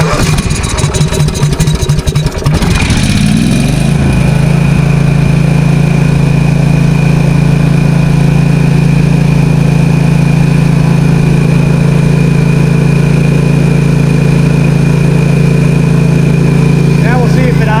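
A small engine running on bad gasoline sputters and catches after a rough start, then settles into a steady, loud idle that drones on alone.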